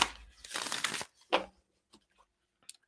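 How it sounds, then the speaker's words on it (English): Moonology tarot cards being shuffled for a three-card reading, giving a close burst of riffling and sliding card noise followed by a single sharp flick and a few faint taps. "So as I shuffle the cards, just think about the week behind."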